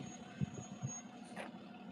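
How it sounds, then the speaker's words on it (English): A bus idles nearby with a low engine rumble, and faint beeping and a brief brake hiss sit over the steady drone, with no talk. "well that bus sound bad."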